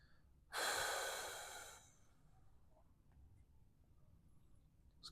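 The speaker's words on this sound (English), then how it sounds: "Make sure you're taking good deep breaths." One long, deep breath drawn close by during a hip-mobility stretching class for quads, hip flexors and hamstrings. It is a single breathy rush that fades, then near-silence follows.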